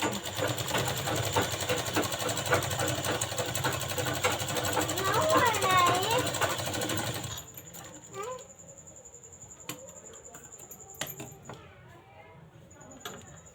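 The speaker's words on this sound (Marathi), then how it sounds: "डबल शिलाई करून घ्यायची आहे लगेच आपण" A sewing machine double-stitching a blouse cup to its side strip, steady rapid mechanical whirring for several seconds, then stopping, leaving quieter handling clicks and faint sounds.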